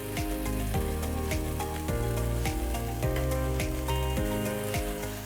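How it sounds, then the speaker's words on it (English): Ground beef hits hot oil in a pan with cooked onion over high heat, giving a close, steady, loud sizzle and crackle that runs throughout, with repeated clinks and scrapes of a utensil on top. "Alright, now that the onion got cooked a little bit, I'm going to add in the beef."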